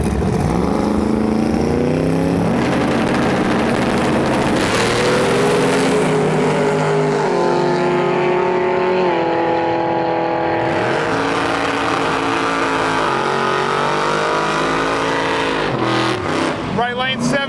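A 1969 Camaro with a 632 hydraulic roller engine and a small shot of nitrous makes a drag-racing pass at Gainesville Raceway, its loud, continuous roar climbing and shifting in pitch, with voices faintly over it.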